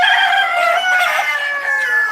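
A rooster crows loudly and close among a flock of chickens, one long, drawn-out call sustained throughout, with no talking.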